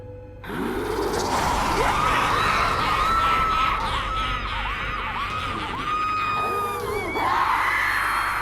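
People scream and yell loudly and continuously in a dramatic horror scene, with several high wailing voices overlapping in a dense, sustained cry.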